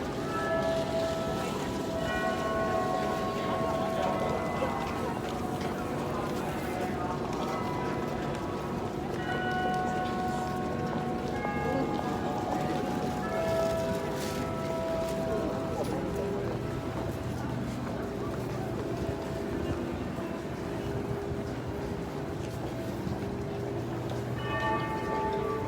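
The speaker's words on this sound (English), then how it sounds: "You can hear the bells of Ginza's Wako up there." Clock tower bells of the Wako building in Ginza, Tokyo, chime a melody of ringing tones over street ambience, moderately distant and fairly soft, with voices murmuring faintly in the background.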